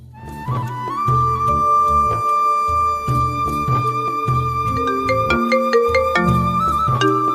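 A phone ringtone plays loud and close, a looping melodic electronic tune with a steady beat that repeats for several seconds with no talk over it.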